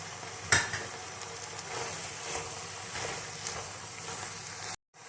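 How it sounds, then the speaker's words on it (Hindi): Minced meat (keema) fries in oil in a pan, giving a steady close sizzle broken by scraping stirs and a sharp metallic clink near the start, then cutting off abruptly just before the end. "थोड़ा सा ऑयल शामिल करेंगे और कीमे को अच्छा सा भून लेंगे।"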